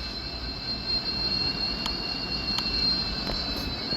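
Another train rolls past at a distance, a steady rumble with a thin high metallic whine and a few light clanks spaced through the passage.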